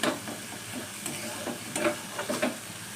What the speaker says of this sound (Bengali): মশলা দিয়ে ওগুলো কষিয়ে নিচ্ছি।